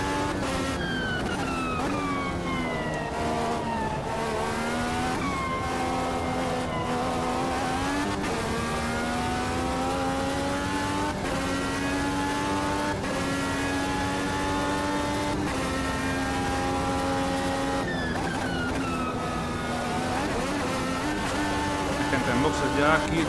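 IndyCar race car from the 2023 season in Automobilista 2, racing at Cleveland: a loud, continuous high engine whine with rising and falling pitch through gear changes, running steadily throughout.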